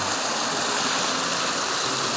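A waterfall on Dartmoor among mossy rocks and trees, a steady, dense rushing of falling water heard close and unbroken throughout.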